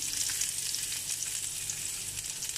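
Garlic and onion frying in hot olive oil in a kawali make a close, steady crackling sizzle that fills the whole short stretch without any speech.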